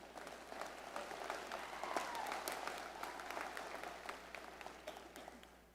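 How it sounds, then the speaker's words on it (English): Audience at a 2023 GW Law diploma celebration applauding, a steady patter of many hands clapping in a large room, fairly faint and even throughout, tapering slightly at the end. "You can clap."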